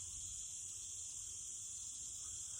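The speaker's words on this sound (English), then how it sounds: "You can probably hear the crickets and cicadas." Crickets and cicadas chirr continuously among trees in a wooded spot. The high, steady insect drone is constant and fairly faint, with a low rumble of outdoor background beneath it and no speech.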